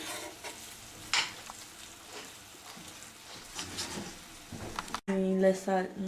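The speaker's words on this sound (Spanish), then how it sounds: "Fem bullir uns 5 minuts." Meat and sausages boiling in a pot for pique macho, heard as close bubbling and sizzling with occasional stirring clinks of a utensil; music abruptly takes over near the end.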